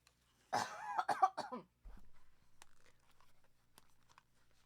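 A person coughs several times right beside the microphone during a podcast, a loud close burst of hacking followed by fainter throat sounds and quiet rustling.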